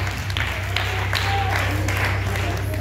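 Audience claps for chef Kimberly, a dense burst of applause over a steady low hum, with voices mixed in.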